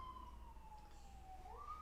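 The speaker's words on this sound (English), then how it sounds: "Excuse the sirens." Sirens from a fire station next door wail faintly in the distance, one long steady tone sliding slowly down and then rising again over a low background rumble.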